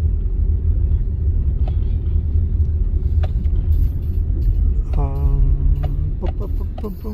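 Low rumble of a car moving through traffic in Zacatecas, Mexico, steady road noise throughout, with a short tonal horn-like blare and scattered clicks near the end.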